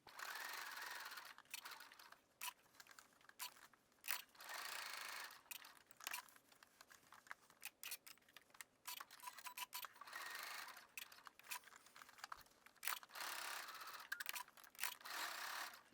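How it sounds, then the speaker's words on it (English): A domestic sewing machine zigzag-stitching overlapped knit elastic ends in a box-and-X pattern, running in repeated bursts of rapid whirring and clicking with short pauses between, close and fairly quiet, with no voices. "I'm going to do a zigzag in a box shape with an X to secure the 2 ends"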